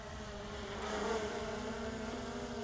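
A DJI Mini 5 Pro drone hovers nearby in light wind, giving a constant, fairly close high-pitched buzzing whine of spinning propellers with no pauses.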